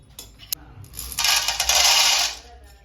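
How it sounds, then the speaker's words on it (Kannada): Roasted millet grains and lentils tip into a vessel, starting with a few small clinks and a sharp tap, then a rushing, rattling pour of grains for about a second before it tapers off. "ಎಲ್ಲ ಒಂದು ಪಾತ್ರೆಯಲ್ಲಿ ಹಾಕ್ಕೊಬೇಕು"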